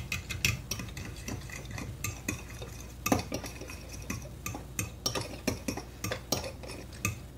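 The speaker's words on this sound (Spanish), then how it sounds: "Vamos a mezclar muy bien que no nos quede nada de grumos." A utensil stirs gelatin into water, giving steady, repeated clinks and scrapes against the bowl at close range, with no talking.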